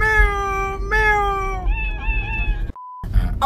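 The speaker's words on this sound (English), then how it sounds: "Non spingerli a fare i miau che poi impazziscono." Drawn-out, wavering meows in several repeated calls, loud and close, interrupted near the end by a short electronic beep, with background voices and noise throughout.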